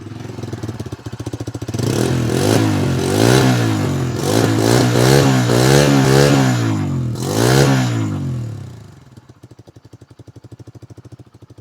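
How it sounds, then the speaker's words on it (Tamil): A Bajaj 125cc CNG motorcycle engine starts and revs in several rising bursts, then settles to a steady idle, with no one speaking. "நம்ம அப்படியே எக்ஸாஸ்ட் நோட்டு கேட்டுருவோம்"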